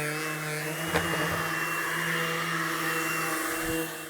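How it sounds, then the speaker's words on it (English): Vacuum cleaner running steadily over freshly sanded wooden stairs, a loud continuous whine with a couple of brief knocks as the nozzle moves. "Vacuum does most of it, but there's always a little something left behind, eh?"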